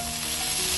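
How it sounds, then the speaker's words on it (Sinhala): Butter sizzles in a pan while vegetable noodles are being cooked, a steady, close, crackling hiss that carries on without a break and with no voices. "අපි දැන් බටර් ටිකක් එකතු කරගන්න යන්නේ."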